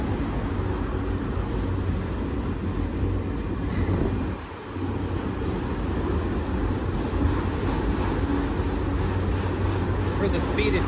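Long CSX freight train rolling slowly past Takoma Metro station in Washington DC, a steady broadband rumble with continuous wheel and railcar noise throughout, fairly loud and close, with people talking over it.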